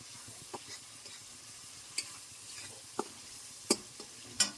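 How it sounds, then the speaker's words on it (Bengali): Spice paste stir-fried in a pan for a cauliflower and paneer curry, with a faint steady sizzle and a few sharp spoon scrapes and clinks scattered through, close and quiet, no talk. "মশলাটা কষানো হচ্ছে"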